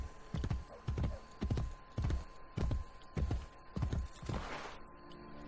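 Horse hooves clip-clop at a steady walking pace in Assassin's Creed Brotherhood, about eight close, even beats standing alone over a faint ambient hum.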